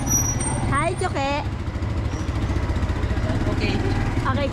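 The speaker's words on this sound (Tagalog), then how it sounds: "So, nakasakay na kami ng tricycle" A motorized tricycle rides along with a steady, loud engine drone throughout, and voices talk over it with a few short vocal bursts.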